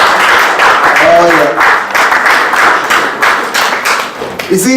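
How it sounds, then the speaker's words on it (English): Church congregation clapping during a sermon, a steady dense patter of many hands throughout with voices mixed in, ending in a brief exclamation. "that's where you're supposed to clap for Jesus"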